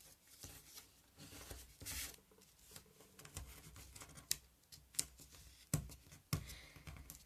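Scissors snipping at tear tape during card making, with a few quiet, crisp cuts and light rustling close by, and barely any talk.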